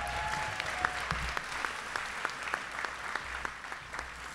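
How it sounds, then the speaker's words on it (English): Warm, steady applause from a middle school graduation audience fills the hall, with a few sharper individual claps popping out near the front over the continuous patter. "Would you give him a round of applause?"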